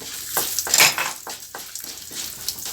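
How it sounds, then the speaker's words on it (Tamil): Black pepper, fenugreek seeds and dried red chillies sauté in a hot pan, giving soft sizzling with repeated scraping stirs and a louder clatter near the start. The sound is close and comes in uneven bursts, with no talking. "மிளகு வெந்தயத்தையும் அது கூட சேர்த்து வதக்கிக்கிடுவோம் மிளகாயவும் மூணு மிளகாயவும் அது கூட சேர்த்துக்கிடுவோம்"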